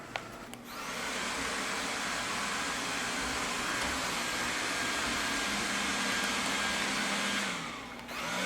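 A CISNO robot vacuum runs with a loud, steady whirring roar that starts after a brief pause and cuts off near the end, heard alone without any talk.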